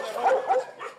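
A police drug-detection dog barks during a security search of a stolen car, giving a few short, moderately loud barks in quick succession.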